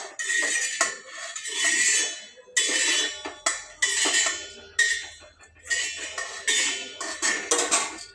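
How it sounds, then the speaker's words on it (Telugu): Fried bitter gourd slices are scraped from a pan onto a plate with a metal utensil, giving sharp, near clinks and scrapes in uneven bursts with no talk. "ఇప్పుడైతే స్టవ్ కూడా బంద్ చేసేసి ఇవి కూడా ప్లేట్లోకి అయితే తీసుకుంటాను"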